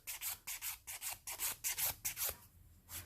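Rough side of a nail file rasping back and forth across acrylic nails in steady, close strokes, about eight rhythmic passes, then a brief pause before another stroke.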